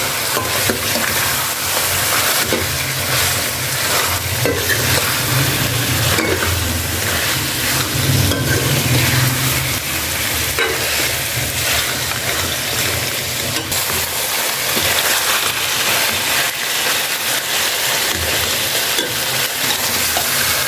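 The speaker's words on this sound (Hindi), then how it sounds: "टिंडे भी ऐड कर देंगे। और अच्छी तरह मिक्स करेंगे।" Round gourd (tinda) stir-fried with meat in a pan gives a continuous loud sizzle and hiss with steady scraping of the spoon throughout.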